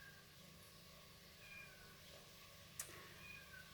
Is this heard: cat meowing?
yes